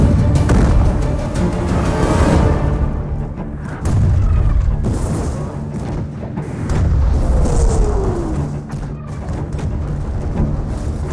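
A concealed cannon battery fires canister shot into a square of Napoleonic-era troops, a loud rolling blast and deep booming rumble that swells and decays, with a second heavy thud partway through.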